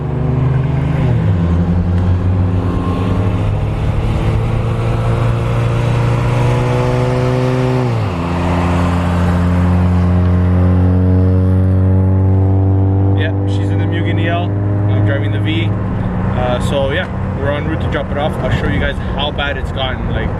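A car on the road, with a front wheel in bad condition, drones loudly as the engine pitch climbs through gears with shifts between, the rumble steady and close throughout.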